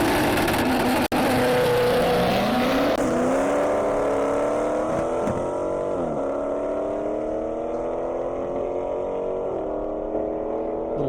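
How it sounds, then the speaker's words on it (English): A Dodge Challenger race car launches from the line at an airstrip drag race, its engine note climbing steadily through the gears, loud and close, with a sharp crack near the start and no talk over it. "Slow start for Brennan in the Challenger."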